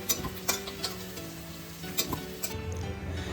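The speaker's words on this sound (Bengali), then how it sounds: "সর্ষের তেলে নুন হলুদ দিয়ে ভেজে নিচ্ছি" Boiled small potatoes fry in mustard oil with salt and turmeric, a continuous soft sizzle broken by several sharp clinks and scrapes of a spatula turning them in the pan.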